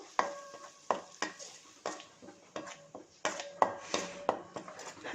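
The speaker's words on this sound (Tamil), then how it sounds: "இதை நல்லா வதக்கிக்கலாம், பச்சை வாசனை போகணும்." Masala sautés in a pan for potato rice, with a spoon scraping and clinking against the pan in a steady rhythm of about a dozen strokes over a light sizzle.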